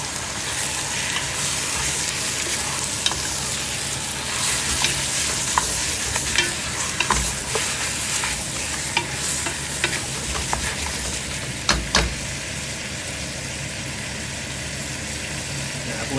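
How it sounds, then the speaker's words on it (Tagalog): Marinated chicken is stirred as it fries in a pan, giving a steady, close sizzle with repeated scraping clicks from the utensil throughout. "At ihalo na po natin ang ating minarinate na chicken kagabi"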